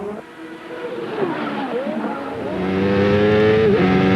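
IndyCar race car at the 1994 Surfers Paradise street circuit, braking hard down an escape road: engine note drops and swoops with tire squeal, then a steadier rising drone as the car comes to a stop, loud and close, no talk.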